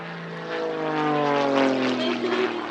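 An aerobatic propeller plane pulling hard, fast turns of up to 8 G at the Shuttleworth airshow in 2024 drones loudly and continuously, its engine pitch shifting slightly as it maneuvers overhead.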